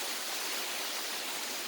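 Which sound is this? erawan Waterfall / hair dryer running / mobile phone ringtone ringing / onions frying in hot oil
erawan Waterfall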